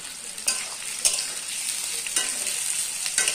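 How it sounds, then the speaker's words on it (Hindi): Onion and chilli fry in oil for a dhaba-style chicken curry, a continuous bright sizzle broken by several sharp scraping clatters as a spoon stirs the pan. "इसको अच्छी तरह से लाल करके भून लूंगी"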